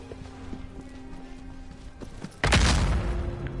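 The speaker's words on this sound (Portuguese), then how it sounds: "tô estocando o cavalo tá indo pra trás" Horse hooves clip-clopping in the Shadow of the Colossus remake, soft rhythmic steps under a low game ambience, followed by a sudden loud burst of impact noise.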